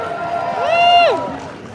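At a live D23 panel, the audience cheers for D. Bradley Baker: one loud rising and falling whoop stands out over a softer crowd murmur and lasts about half a second.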